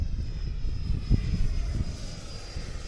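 FMS Super Hornet F18 RC model jet in flight, a steady whooshing engine drone holding at moderate loudness for the full stretch, with a thin high whine running across it and no voices.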